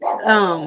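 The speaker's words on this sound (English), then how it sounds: "excuse my dog in the background" A dog barks and whimpers close to the microphone in a home setting, a short tonal yelp that rises and holds briefly, with a voice speaking over it.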